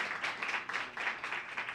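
Audience clapping inside Stereo, a venue in Atlanta's Emmett Park neighborhood, a fairly quiet, thin round of applause from a small crowd, steady for under two seconds with no talk over it.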